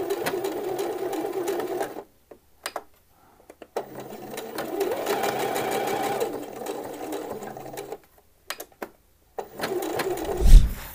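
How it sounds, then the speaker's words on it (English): A sewing machine stitches edge seams on a men's shirt, running in several bursts of steady mechanical whirring separated by short pauses, close and moderately loud, with a low thump near the end. "you want to sew a line of stitching on the edges down here and down here"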